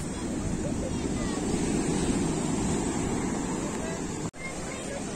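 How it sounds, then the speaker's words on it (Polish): Giant sea waves surge onto a nearly submerged beach in Antalya, Turkey, a continuous loud roaring wash of surf mixed with wind buffeting the microphone. "Gigantyczne fale i morze bardzo, bardzo blisko przypłynęły."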